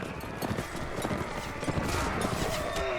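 Horse hooves thud in a steady galloping rhythm across a battlefield in the Mount & Blade Warband video game, with clashing combat noise layered over the running horse.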